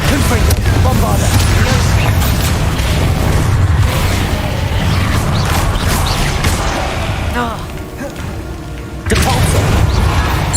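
Bombarda and Confringo spell explosions go off in the Hogwarts Legacy video game's final battle, making loud, dense, continuous booms and crashes with a short dip near the end, while a voice shouts over them.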